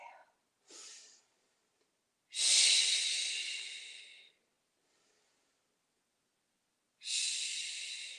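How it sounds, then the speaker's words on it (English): Slow, deliberate breathing during a standing yoga stretch: a couple of short breaths, then a long airy inhale-exhale, a pause and another long breath, close and clear with no talking. "And one more, inhale and exhale."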